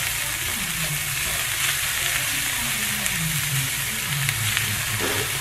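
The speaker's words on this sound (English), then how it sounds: "cauliflower moving around in here." Cauliflower turmeric fried rice, keto style with chicken, sizzles and crackles steadily in a hot pan as it is stirred, a dense close frying hiss with faint scraping and no talk.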